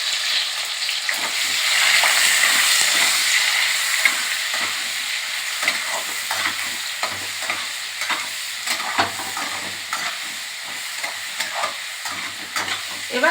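A freshly ground paste of ginger, garlic, onion and green chilli fries in a pan, giving a loud, continuous sizzle broken by repeated scraping stirs, close up, with no talking.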